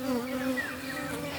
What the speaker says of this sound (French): et le bourdonnement des abeilles?